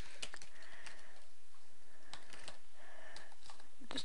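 Clicks and taps of typing on a computer keyboard at an Asus computer, soft irregular keystrokes spread through a quiet indoor room, fairly close but low in level.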